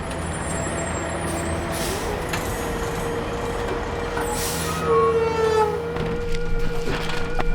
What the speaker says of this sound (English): this is my Hino 300 4x4 truck